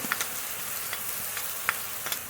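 Ginger-garlic paste, cumin and dried red chili paste frying in hot oil in a pan, a continuous close sizzle broken by a few sharp spatter pops, with no talk.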